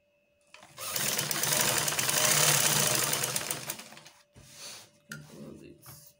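A sewing machine stitches a shift dress in one long, loud, steady run that then breaks into two shorter bursts.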